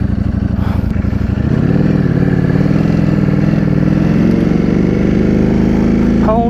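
A Ducati Streetfighter V4S motorcycle pulls away under steady throttle, its engine note climbing and holding loud and close throughout, with no talk over it.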